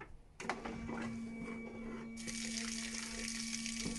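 Makita 18V submersible pump running with water pouring through its hose, a steady close rushing and splashing flow with a constant motor hum, starting abruptly after a brief quiet moment and growing slightly brighter partway through.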